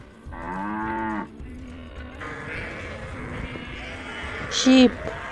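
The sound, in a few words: cow mooing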